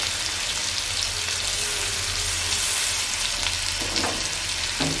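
Green onion whites frying in butter in a pan make a dense, steady sizzle close up, with a couple of brief stirring scrapes near the end and no talking.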